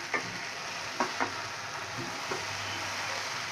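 Okra (bhindi) stir-fries on high flame in a no-onion, no-garlic recipe, a steady sizzle broken by a few sharp spatula scrapes and clicks as the pieces are turned.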